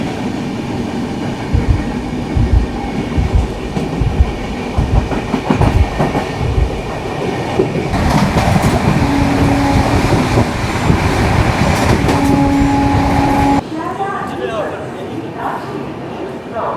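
The 12343 Darjeeling Mail runs from Kolkata toward NJP with a loud, continuous rumble and rhythmic clickety-clack of wheels on rails, heard from on board, with a voice talking over it.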